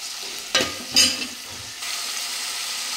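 Onions and tomatoes fry in a pan with salt added, giving a steady sizzle with two louder bursts of stirring near the start, no voices over it.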